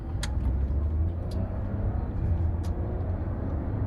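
A 2019 Audi A7 Prestige 3.0T mild-hybrid quattro accelerating, heard as a steady, loud low rumble of engine and road noise from inside the cabin, with a few brief higher ticks and no talking.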